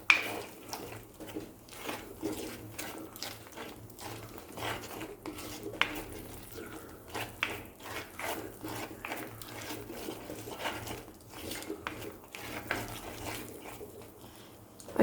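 Pan of fish curry masala being stirred and sautéed after salt water is poured in, with steady scraping and clattering of a utensil against the pan, close and moderately loud throughout.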